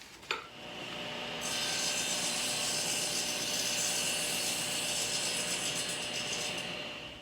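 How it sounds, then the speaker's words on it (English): A power saw trims the end of a reclaimed oak dovetail tongue: a short start-up, then a steady, loud whining cut with rasping wood noise lasting several seconds before tapering off. "So I'll just run that through the saw quickly."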